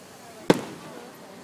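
A single sharp July 4th firework bang goes off at a distance and leaves a brief fading echo.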